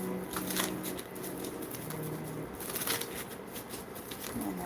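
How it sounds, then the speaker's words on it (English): Tarot cards being shuffled by hand close up, with a soft, continuous papery riffle and patter and a few brighter flicks, quiet and with no voice. "One more shuffle."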